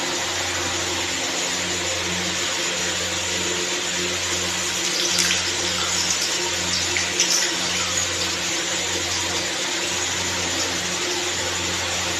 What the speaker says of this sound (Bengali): প্রথমে পনিরগুলোকে একটু হালকা করে ভেজে নিই।